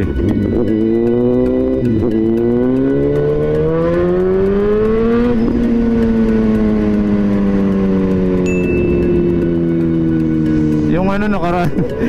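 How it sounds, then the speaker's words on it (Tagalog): A Raider motorcycle chasing an e-bike revs loudly nearby, its engine pitch climbing and sliding in long sweeps, then surging again near the end. "Hinahabol ako ng Raider."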